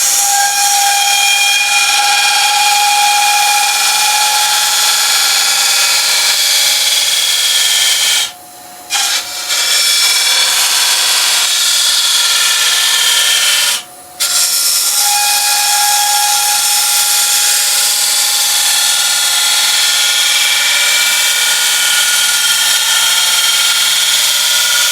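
A wood lathe turns a UK fan palm bowl, giving a steady, loud hissing cut with a thin high whine running through it. The sound is continuous apart from two brief dropouts.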